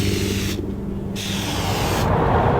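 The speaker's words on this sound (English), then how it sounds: "you take your can of air filter oil and just spray it evenly along the pleats of the filter" A can of K&N air filter oil sprays onto the pleats of a filter in two loud, close hissing bursts separated by a brief pause, with no talking.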